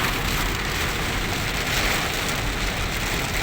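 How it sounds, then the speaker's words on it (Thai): Steady rain falls heavily and close by, seemingly on a car during a driving lesson on a real road, a dense unbroken hiss with no voices. "เป็นบรรยากาศเราฝนตก"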